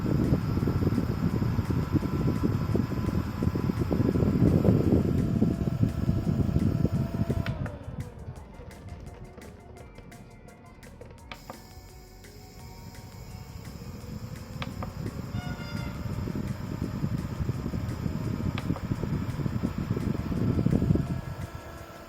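A cheap mini air cooler with a water spray gives a steady whirring hum and hiss. The noise dips for several seconds in the middle and then returns at full level.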